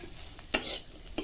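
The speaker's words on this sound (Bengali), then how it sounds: "এবার এটাকে লেড়ে লেড়ে ভালো করে ভেজে নেবো।" Soybean chunks stirred and fried in a pan, a faint sizzle with two or three sharp scrapes of a spoon against the pan in quick succession.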